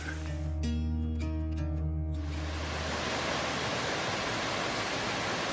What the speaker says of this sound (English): Skull Creek Falls